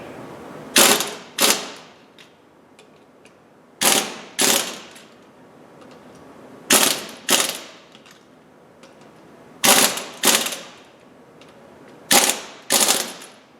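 An impact wrench fitted with a torque stick tightens the lug nuts while a tire is installed. It fires in short paired bursts of sharp rattling hammering, close and loud, with brief quiet gaps between each pair.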